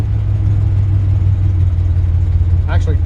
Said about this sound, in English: Nice aggressive exhaust, sounds really cool.